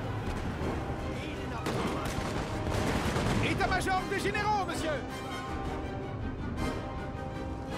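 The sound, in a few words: cannon artillery fire in video game Napoleon: Total War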